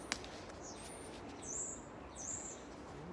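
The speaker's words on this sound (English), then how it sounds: "I can hear my birds singing outside today." Birds singing outside, faint and distant, with a few short high chirps and thin whistled calls over a quiet room background.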